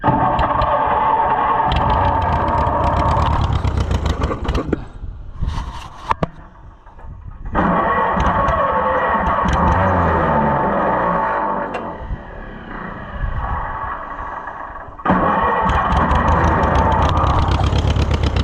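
A long-neglected Allis Chalmers Model C tractor engine cranks, catches and runs close by. The loud, rough chugging drops out briefly in the middle, sputters, then picks back up and runs steadily again.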